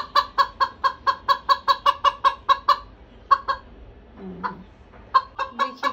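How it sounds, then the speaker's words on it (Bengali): A rooster in a cage makes loud, close, rhythmic clucking calls in a rapid regular series. The calls pause briefly, a short lower squawk follows, and then the calls resume. "রাতা মোরগ"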